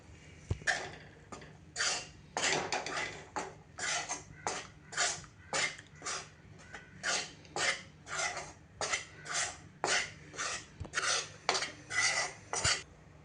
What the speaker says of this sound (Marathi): आपण ही घेतलेली कणिक घालायची आणि छान तांबूस रंगावर खमंग भाजून घ्यायची